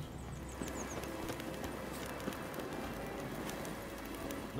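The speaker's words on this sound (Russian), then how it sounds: "Так, лошадь, иди сюда." A horse galloping in The Witcher 3 video game, a quiet rapid hoofbeat patter under a dense, steady game soundscape, with no voices.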